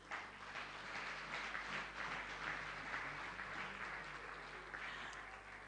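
Applause from an awards audience honouring Dufil Prima Foods, makers of Indomie, a fairly faint but steady spread of clapping across a room, with a low hum underneath.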